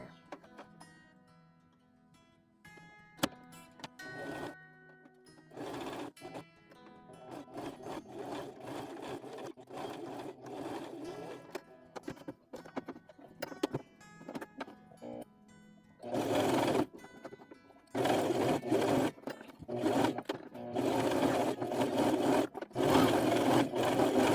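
A sewing machine runs stitches across fabric scraps in short stop-start bursts that grow longer and louder toward the end, a close mechanical rattle with handling sounds between runs.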